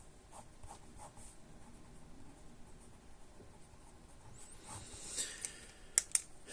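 A Jinhao 10 fountain pen scratches faintly across paper in short strokes, quiet and close, with a couple of sharper taps or clicks near the end.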